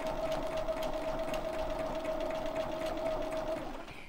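A sewing machine stitches along a seam on a quilt-as-you-go block, running at a steady fast pace with a constant tonal hum and a rapid clatter of the needle, close and unbroken for several seconds.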